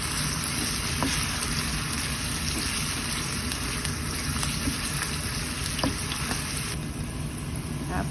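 Small sliced potatoes fry in plenty of hot oil for a corned beef breakfast, giving a continuous dense sizzle and crackle with a few faint pops, close up and without voices.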